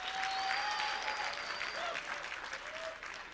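Audience at a makers festival celebration dinner applauding, a dense, sustained wash of clapping from a crowd with a few whistles over it, loud at first and tapering slightly.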